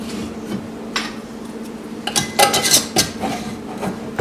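Metal lids and screw bands set onto glass canning jars, close by, with a few light clinks and taps, then a denser cluster of metallic clatter over a steady background hum.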